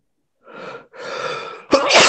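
A single loud sneeze preceded by a sharp inhale, close and clear, followed by a brief breathy burst.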